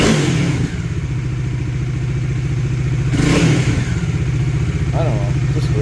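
A motorcycle engine with an idling fault runs steadily with a throbbing, clattery tone and a brief rev near the middle, loud and close throughout.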